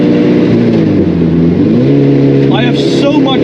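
Lotus Elise from 1997 with a swapped Honda K20A engine, its steady engine drone rising in pitch as it revs, loud and close throughout, with someone talking over it.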